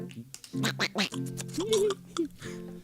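A voice imitates Donald Duck, making a run of quacking, nasal duck noises in short bursts, close and fairly loud.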